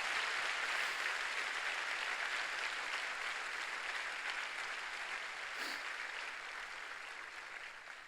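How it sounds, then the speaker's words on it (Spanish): A church congregation applauding together, a steady, fairly distant wash of clapping that holds for several seconds and slowly fades toward the end. "Fuerte el aplauso."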